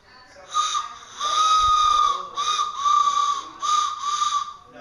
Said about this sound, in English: I got a train whistle.